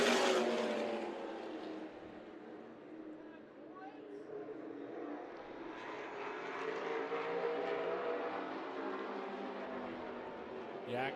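A pack of race cars at Tucson Speedway roars away on a green-flag restart for a 50-lap main event, a broad, steady engine drone that swells and fades as the field passes, heard under continuous race commentary.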